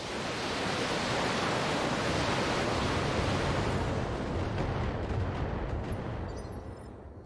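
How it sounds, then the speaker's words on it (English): Missiles firing in a mech combat video game, a dense continuous roaring rush of launches and blasts that stays loud throughout and eases off slightly at the end, with no talk. "Fire some missiles."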